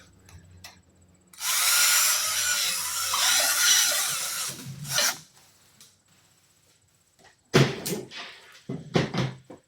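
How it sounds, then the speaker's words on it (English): A power drill bit widens a hole during a Kangke DGA-12 ARF budget model airplane build, whirring loudly for about three seconds before stopping, followed by short clatters and handling knocks of the workpiece. "I'm going to take the old drill bit, do the old waller a hole here a little bit."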